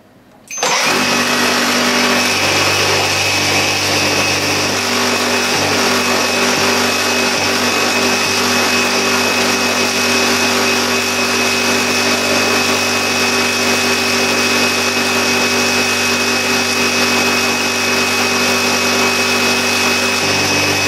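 A homemade disperser-homogenizer starts up and runs as a steady, loud motorized whine with a strong hum, continuing without pause close to the listener.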